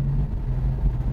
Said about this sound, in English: I'm only moving the accelerator about a quarter of an inch